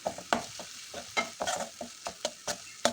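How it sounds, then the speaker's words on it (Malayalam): Soft cooked tomatoes being pressed and mashed with a spoon in a pan for a Kerala chickpea curry, a quick series of wet squelches and sharp scraping knocks against the pan under a faint sizzle, close, no voices. "തക്കാളിയൊക്കെ ഇങ്ങനെ നല്ലപോലെ ഉടച്ചെടുക്കണം"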